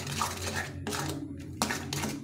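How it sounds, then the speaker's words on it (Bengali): Semolina being stirred in a pan for suji barfi with sugar syrup: soft scraping and light utensil clinks against the pan in repeated strokes, fairly quiet, with someone speaking over it. "তেল দলা না লাগে ভালো করে নাড়তে হবে।"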